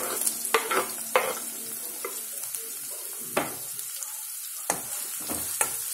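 Tomatoes sauté in oil, a moderate sizzle broken by repeated distinct scrapes and knocks of a spoon against the pan, unaccompanied by any voice.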